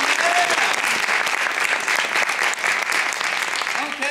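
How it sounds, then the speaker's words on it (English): Dense, steady applause from an audience after an improv comedy game at a class graduation show, loud and continuous clapping filling the room with a few cheers mixed in. "Let's give them another round of applause"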